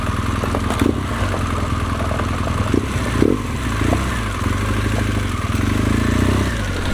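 An adventure motorcycle with street tires makes a slow U-turn on loose gravel. The engine runs with a steady low drone near idle, and small throttle blips and clattering crunches come through close by.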